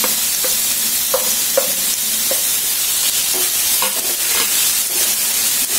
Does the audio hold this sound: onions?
yes